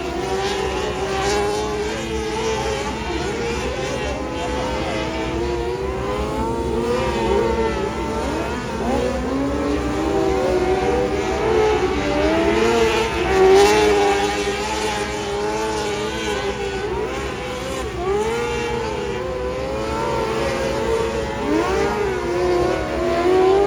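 Micro sprint race cars on a dirt track roar continuously, engines rising and falling in pitch as several cars circle, loud and steady throughout with no talk.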